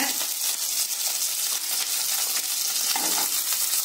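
Garlic, dried chillies, tamarind and shallots sauté in a pan with a constant close sizzle and occasional light stirring scrapes, steady throughout without speech.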